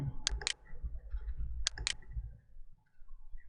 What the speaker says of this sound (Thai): คลิกปุ่มตกลง